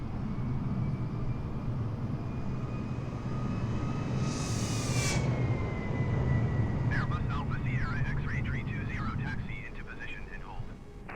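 Airbus A320 jet engines in Flight Simulator 2020 hold a steady, loud whine and rumble throughout, with a brief rising burst near the middle and chirpy tones toward the end.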